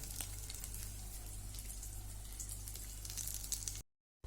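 Bread-based vegetable cutlets shallow-fry in oil with a soft, even crackling sizzle and a low steady hum underneath, faint and continuous before cutting out abruptly near the end.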